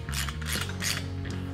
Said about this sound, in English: Now you'll want to tighten up the two nuts for the plate as well as the bolt nut for the balancer.